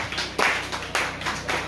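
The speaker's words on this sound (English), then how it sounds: "Let's continue to clap and he will come." An audience claps at a school gathering in Moyo District, with several distinct surges of hand claps at an uneven rhythm over a faint steady hum, no talking heard.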